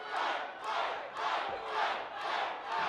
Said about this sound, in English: Crowd sounds like they want it right now